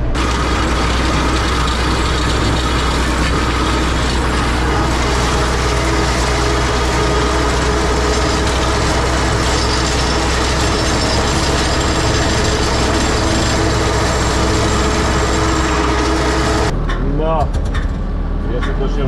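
A tractor engine runs while mowing a meadow, a loud, continuous mechanical rumble with a busy rattle on top, cutting down sharply near the end to a quieter idle.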